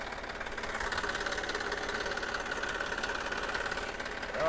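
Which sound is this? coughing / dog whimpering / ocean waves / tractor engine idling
tractor engine idling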